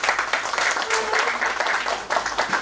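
Applause from the audience at a stock exchange listing ceremony for KK Silk Mills Ltd, a dense, continuous patter of many hands clapping together at moderate loudness.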